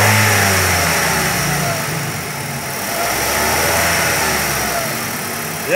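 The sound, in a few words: Mazda Biante 2.0L engine revving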